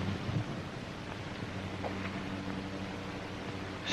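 Strong wind blows steadily in a 1937 western film, a continuous broadband roar that stays loud and unbroken throughout with no voices over it.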